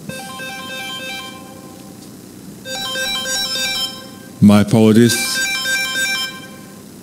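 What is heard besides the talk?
phone ringtone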